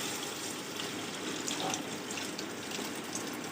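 Strained yakhni stock poured into a pot of well-fried masala for white chana pulao, a steady close splashing pour running continuously throughout with no voices.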